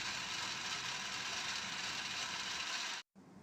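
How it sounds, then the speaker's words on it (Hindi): A blender grinds falsa berries with water in a loud, steady whirring roar that cuts off abruptly near the end, followed by a quieter continuing hum. "इसको अच्छी तरह ग्राइंड कर लेंगे तकरीबन 3 से 4 मिनट तक"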